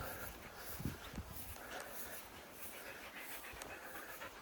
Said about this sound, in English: There he is. There's the dog.